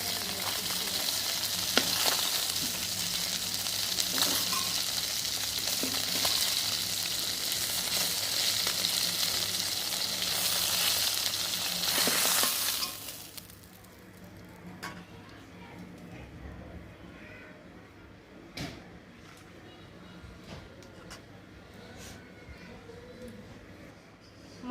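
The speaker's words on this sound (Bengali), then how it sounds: "বাকি মাছগুলো ভাজা হয়ে গেছে, তুলে নেব।" Bele and tangra river fish fry in hot oil with a loud, bright, continuous sizzle for about thirteen seconds, then the frying drops away to faint background with occasional clinks and spoken commentary.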